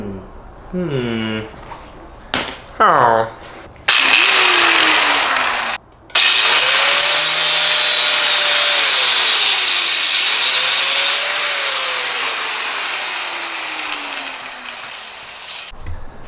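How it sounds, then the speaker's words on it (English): An angle grinder cuts into parts of a Honda CRF450 dirt bike. A loud, steady, harsh whine runs for about twelve seconds with shifting pitch, after brief voices and clatter at the start. "I'm gonna grind it. I'm gonna pull the grinder out."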